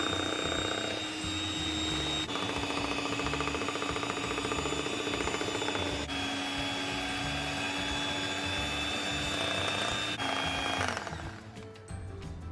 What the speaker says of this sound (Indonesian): lanjut masukkan tepung terigu secara bertahap dan mixer lagi sehingga adonan tercampur rata